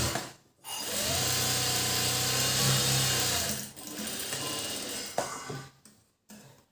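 A sewing machine stitches a blouse seam, its rapid mechanical whir running for a few seconds close up, stopping, then starting again in shorter bursts.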